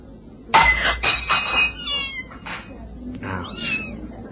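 A cat yowls and meows loudly in a garden after a tossed bottle strikes it, with a brief clink at the start and several drawn-out cries fading over a few seconds.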